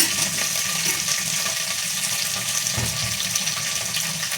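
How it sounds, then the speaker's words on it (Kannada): Water runs steadily into a kitchen sink during pulao preparation, a continuous close splashing rush with no talking. "ಇವಾಗ ನೀರು ಶಿಂಕಿಗೆ ಚೆಲ್ತಾ ಇದ್ದೀನಿ."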